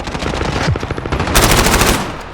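Dense automatic gunfire from a competitive shooter video game, a loud sustained burst of rapid shots that swells louder partway through, with no talking.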